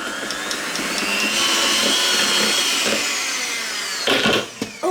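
An electric mixer beats thick cream cheese frosting for a banana cake in a kitchen. The close, steady, high whine of the motor runs for about four seconds, then gives a few brief uneven surges near the end, with no talk.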